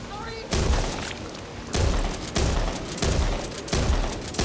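Gunfire in the co-op zombie shooter Back 4 Blood comes as loud repeated bursts of shots, about five separate volleys in quick succession, with no talk over them.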